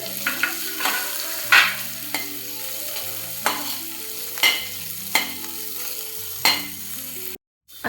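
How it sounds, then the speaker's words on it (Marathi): Carrots, spring onion and black pepper are stir-fried in a pan for veg manchurian: a soft, steady sizzle, broken by about ten sharp scraping spatula strokes at an uneven rhythm. A brief silence comes near the end. "गाजर, कांद्याची पात, थोडीशी मिरेपूड हे चांगलं परतून घेऊ."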